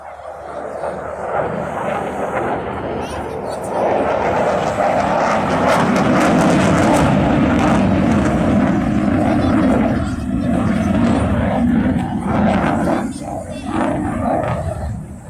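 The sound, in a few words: Eurofighter Typhoon jet engine at an airshow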